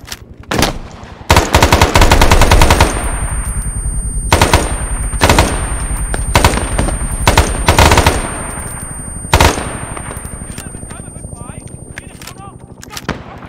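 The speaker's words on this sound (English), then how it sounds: "Gunship support inbound." Gunship support in a video game fires machine guns, loud rapid bursts of automatic fire and heavy booming blasts in close succession, tapering to sparser shots and fading reverberation toward the end.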